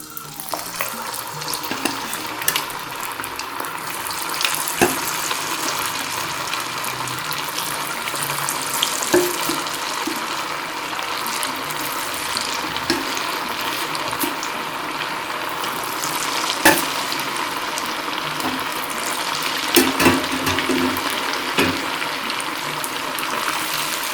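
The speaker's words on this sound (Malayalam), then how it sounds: "അപ്പോൾ നമുക്ക് വട ഒന്ന് വറുത്തെടുക്കാം." Chinese vada deep-fry in hot oil, giving a steady, loud, continuous close sizzle with an occasional louder crackle or stir over about twenty-four seconds, and no one speaks.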